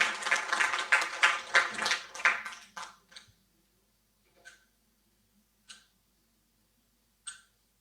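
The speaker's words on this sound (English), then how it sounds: "Please give him a warm round of applause." An audience applauds at a closing ceremony, a short burst of clapping that quickly dies away into a few isolated claps spaced out over the following seconds.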